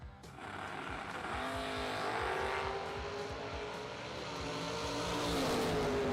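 Drag racing cars, a KB Performance wagon and a roadster, launching down the strip at a bracket race; loud engines rise and rev as they pull away, with tire noise and a continuous roar.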